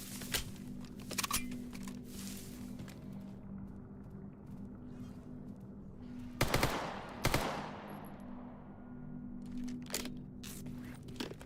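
Video game gunfire in sharp scattered bursts, with a few isolated shots and two louder volleys in the middle, heard over a constant low background hum.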